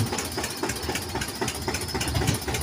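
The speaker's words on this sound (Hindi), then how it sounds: "देखो और देखो ये जा रहा है ट्रैक्टर" A tractor engine idles and chugs with a steady mid-low knocking rhythm, loud and close throughout, with no voices.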